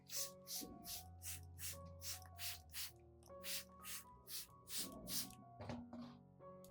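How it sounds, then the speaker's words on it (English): Spray bottle misting an orchid's leaves, stem, roots and leaf joints, a quick series of about fifteen sharp hissing squirts in a steady rhythm over soft background music. "mist the entire orchid, including the leaves, stem,"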